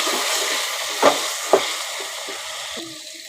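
Chickpeas sauté with biryani masala in a pan, a soft steady sizzle broken by two sharp spoon knocks against the pan and light stirring, close up with no voices.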